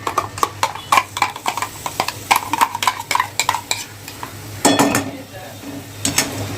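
Spices and tomato paste stirred in oil in a metal pan, a quick run of loud, close scraping and clinking strokes from a utensil, then a brief sizzle before the stirring resumes.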